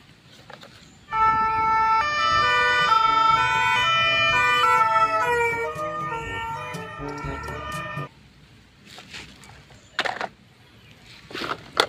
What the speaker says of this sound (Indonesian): Wow, ini ada mobil ambulans.